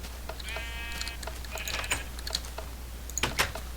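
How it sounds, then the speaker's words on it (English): A sheep in a Minecraft mod bleats a couple of times in short synthetic cries, mixed with quick computer keyboard clicks and a low steady hum underneath. "Let's get a sheep in here."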